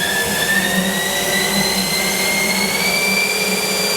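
A new 2018 Haas ST-10Y CNC turning lathe with Y-axis live milling spins its spindle at high RPM. It gives a steady, loud whine whose tones climb slightly in pitch, with no voices.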